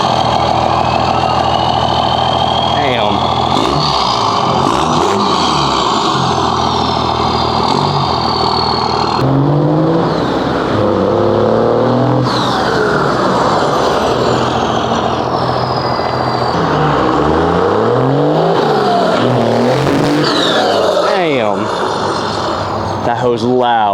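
Diesel pickup truck with a 5-inch turbo-back exhaust, loud and close, with its engine rumbling and rising in repeated revs throughout; people talk over it.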